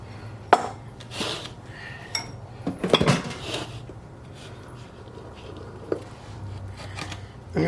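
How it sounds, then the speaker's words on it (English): Thick spring roll filling paste being scraped out of a food processor into a bowl, with sharp clinks and scrapes of utensil on bowl at irregular moments over soft kitchen background noise. "So we're going to remove it from our processor"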